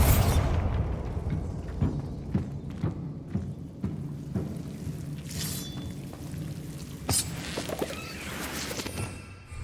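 A Bombarda spell in Hogwarts Legacy sets off a deep boom at the start, followed by scattered crackling debris, rumbles and smaller impacts, all moderately loud and without voices.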